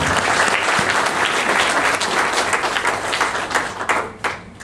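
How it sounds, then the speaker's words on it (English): An audience applauding loudly at a keynote address, a dense, sustained wash of many hands clapping that thins out toward the end. "I think we need to give all of you a round of applause."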